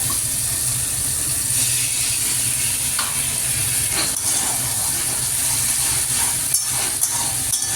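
Spices and fried fish are sautéed in a pan, giving a continuous loud sizzle with scraping and clicking stirring sounds, no talking.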